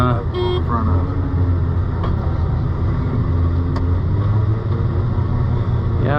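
A farm vehicle drives along a road during a soybean harvest, heard from inside as a loud, steady engine rumble and road drone with a brief tone near the start, while people talk over it.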